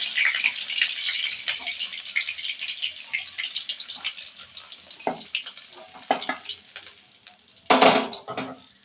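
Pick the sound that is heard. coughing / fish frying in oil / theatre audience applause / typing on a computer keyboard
fish frying in oil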